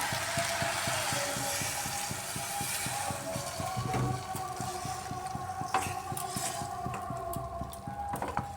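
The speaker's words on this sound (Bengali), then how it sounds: "এবার এর মধ্যে দিয়ে দিচ্ছি জল" A steady, continuous gush of water pours into a pot of sautéed mixed vegetables and bhetu greens for a vegetarian dish, with faint clinks near the end.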